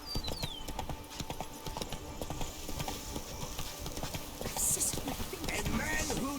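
Hooves of Roach, a horse in The Witcher 3: Blood and Wine game, clip-clop in a steady rhythmic walk throughout, with a voice speaking over them and a brief whinny-like rise later.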